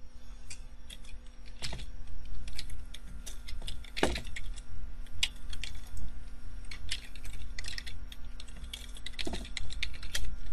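Someone types a command on a computer keyboard: a close, rapid run of clicking keystrokes with uneven rhythm and a few louder strikes, continuous throughout with no talk.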